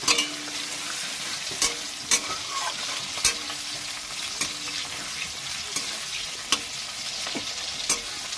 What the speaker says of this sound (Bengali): আমার পেঁয়াজটা একটু হালকা বাদামি রঙের ভাজা হবে।